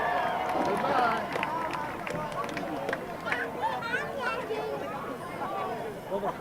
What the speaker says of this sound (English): the crowd is clearing out